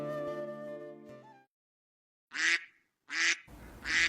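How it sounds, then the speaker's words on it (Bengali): A duck raised on a pond quacks three times in short, loud, raspy bursts, after a stretch of sustained tonal sound and a brief silence. "এই হাঁস তো আমাদের পুকুরেই বড় হয়েছে"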